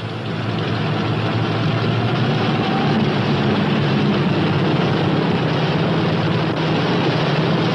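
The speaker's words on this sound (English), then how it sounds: "Close the throttle to run your engine as slowly as possible until oil pressure is indicated" A P-61 Black Widow aircraft engine idling after start, throttle closed to run as slowly as possible: a steady, loud, broadband roar with a low rumbling drone that holds constant throughout, with no voices over it.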